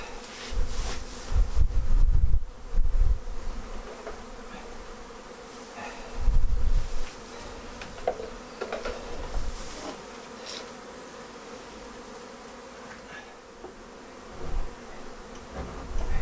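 A clustered swarm of bees hums continuously at close range, with a dense droning buzz that swells in louder bursts as individual bees pass near, without any talking.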